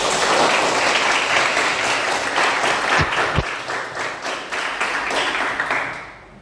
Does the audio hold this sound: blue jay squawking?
no